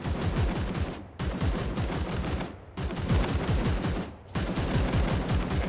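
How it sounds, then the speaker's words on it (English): Support fire in the Warhammer 40,000: Chaos Gate video game, heard as sustained loud volleys of rapid automatic gunfire in three or four long bursts separated by brief pauses, with no talking. "Try to get some shots off with the support fire."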